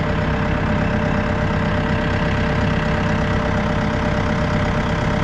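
A Massey Ferguson 2E.60 hydrostat compact utility tractor, 57.3 engine horsepower, idles steadily nearby, a quiet, even diesel drone with no change in speed and no voices.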